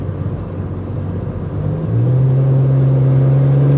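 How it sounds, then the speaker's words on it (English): A modded, tuned 2008 BMW 335i E90 engine with an overboost fault, idling close by and then rising into a louder, steady higher-pitched rev as throttle is applied. "Let's give it a little bit of throttle."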